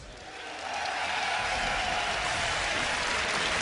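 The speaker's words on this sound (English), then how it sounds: "if you want to see them take this game, give them a cheer" A large esports audience at a Gamescom semi-final match cheers for SK Gaming, rising within the first half second into a sustained, even roar of applause and crowd noise that fills the hall.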